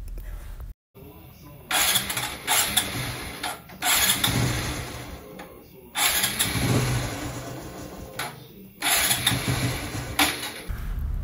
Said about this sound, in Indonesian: seperti yang kalian dengar sendiri, motor ini sudah susah menyala dan kemudian tidak mau stasioner